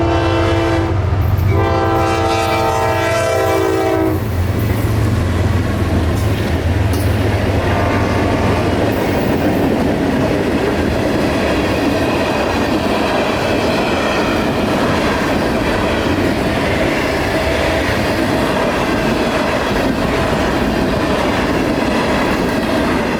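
A CSX freight train rumbles past at close range at a rail junction, its horn sounding in the opening seconds before a long, steady roar of wheels and cars continues throughout.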